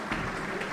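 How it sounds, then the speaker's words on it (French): Audience applause at an award ceremony at the Hôtel Montana, a steady broadband wash of many hands clapping at moderate level throughout the short moment. "Merci d'applaudir."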